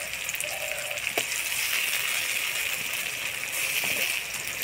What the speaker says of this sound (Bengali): লঙ্কা বাটা দিয়ে নাড়াচাড়া করে নিব